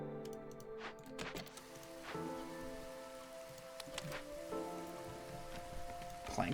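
Drizzle patters in the video game Against the Storm, a soft, continuous rain texture beneath steady tonal game music and scattered interface ticks, fairly quiet throughout.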